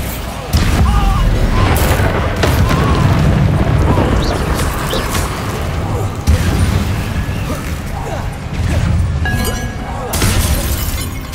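Bombarda spell explosions in the video game Hogwarts Legacy, loud shattering bursts and booms amid ongoing combat effects, with several sharp impacts over the clip.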